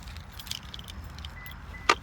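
A bunch of keys jangles beside a parked car outdoors: a faint low traffic hum runs underneath, then a short, sharp metallic jingle near the end.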